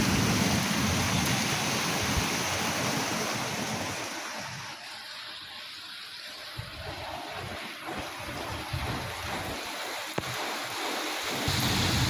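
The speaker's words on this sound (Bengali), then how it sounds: "আস্তে আস্তে বৃষ্টি জোরে আসতেছে।" Rain falls in a dense, steady roar that dips slightly midway and then swells again, a broad wash of noise with no voices over it.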